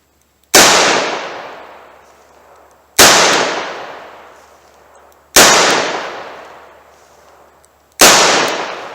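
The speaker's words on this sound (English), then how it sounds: "This revolver shoots notoriously low for me" A .38 Special snub nose revolver fires four loud, evenly spaced shots outdoors, each a sharp crack followed by a long decaying echo before the next.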